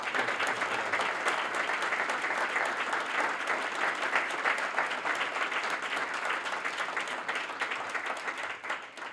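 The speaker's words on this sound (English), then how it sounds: "please, a round of applause for former Mayor Ambassador Ray Flynn" Sustained, dense audience applause at a housing development renaming ceremony, honoring a former mayor; many hands clapping steadily and loudly throughout with no pause.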